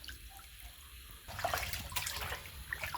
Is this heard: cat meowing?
no